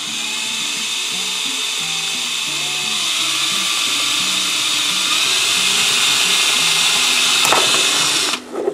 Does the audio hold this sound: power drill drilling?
yes